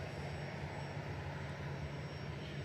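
A Boeing 737-800 jet operated by Malta Air rumbles steadily at Manchester Airport, a continuous broadband roar heard from some distance with no speech.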